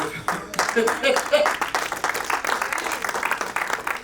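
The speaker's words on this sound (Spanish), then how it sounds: "Dale un aplauso." A church congregation claps and applauds throughout, a dense, steady patter of many hands close by, with voices calling out over it.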